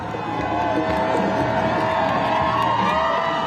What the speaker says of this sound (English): The roads lined with crowds cheering their return.